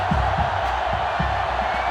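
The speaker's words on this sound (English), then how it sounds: "This sellout crowd is really making a difference now as these guys can't even call the play." Stadium crowd cheering in the video game NCAA Football 2005 during a Michigan versus Ohio State game, a loud, steady roar of a sellout crowd that fills the whole clip with no break.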